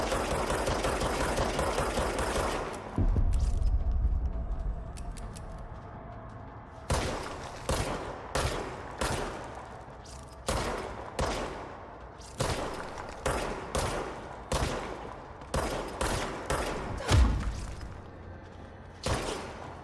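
Enemy gunfire in the video game Control rings out as a series of short, sharp bursts and single shots, repeated irregularly after a dense rumbling opening.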